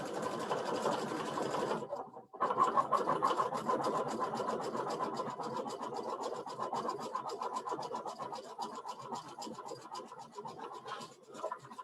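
A Baby Lock embroidery machine stitches out a small letter W on fabric for an in-the-hoop bookmark, giving a steady, close, rapid needle chatter that runs almost the whole time after a brief pause near the start.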